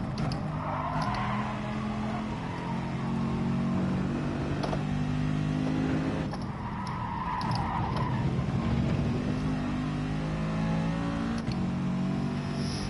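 A Gr.4 race car in a racing game runs downhill with its engine note holding a steady, moderately loud drone, and brief tire noise and shifts come in at a few points. No one speaks.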